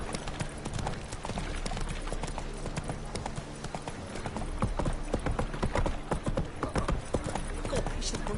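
Racehorse hooves clip-clop in a PS4 video game, a quick steady gallop pattern under a continuous dense background of game sound and music, with a voice talking over it.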